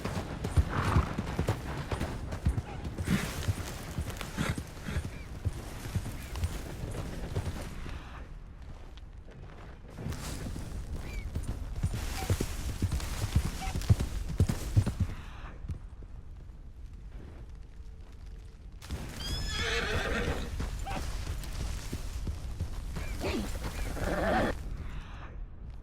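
Horse hooves clip-clop at a gallop in the Red Dead Redemption 2 video game, with bursts of neighing and whinnying among continuous riding noise across the whole stretch.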